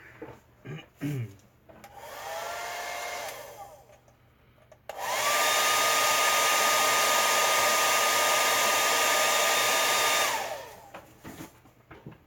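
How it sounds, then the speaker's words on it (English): A hair dryer roars steadily for about five seconds, loud and close, drying a small collectible figure, after some handling noises and a quieter whirring hum earlier. "I'm going to hit this with the blow dryer."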